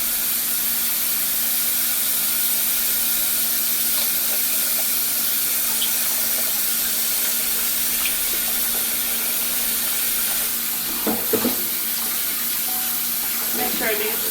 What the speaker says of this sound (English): Beef chuck neck. Washing with some vinegar.